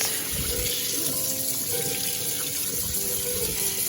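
Hot water runs steadily from a tap into a sink as coffee bar bottles are rinsed, a continuous close splashing stream with faint clinks underneath.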